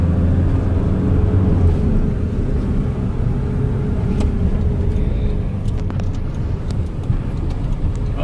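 A 2001 Toyota Hilux with a 2.8 engine driving through city streets, heard as a steady, loud low engine and road rumble from inside the cab, with faint ticks and rattles and no talk.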